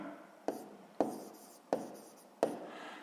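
Handwriting during a sixth-grade math exercise: four distinct pen or chalk strokes with sharp starts and scratchy tails, close and clear with no voice.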